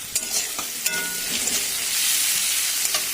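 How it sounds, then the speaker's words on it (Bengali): Salted onions fry in a pan with a steady, close sizzle, broken by the scrape and clack of stirring, with no voices. "পেঁয়াজের মধ্যে হালকা করে লবণ দেবো যাতে পেঁয়াজটা নরম হয়ে যায়, তারপরে ভাজা হয়ে যায়।"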